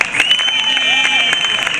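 Audience applause at a ceremony for the Ukrainian national team in Ochakiv, a steady wash of clapping from a crowd with a bright ringing tone and some voices running over it.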